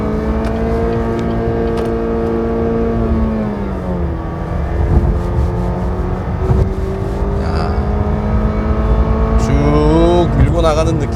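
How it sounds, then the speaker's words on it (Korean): Cadillac CT6 turbo sedan engine held at high RPM in second gear in sport mode, a steady droning hum climbing and shifting in pitch with a brief rise near the end, heard from inside the cabin with someone talking over it. "일부러 좀 RPM을 높게 쓰면서 엔진 사운드를 한번 들어보도록 하죠"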